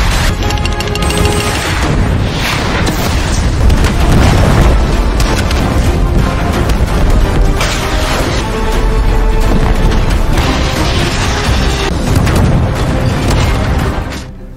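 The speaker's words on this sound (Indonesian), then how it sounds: "gencar menembakkan meriam jarak jauhnya ke garis pertahanan terakhir tentara merah" Heavy booming blasts from long-range artillery cannon fire roll continuously in a film battle scene, loud and dense, with repeated deep explosions layered over one another throughout.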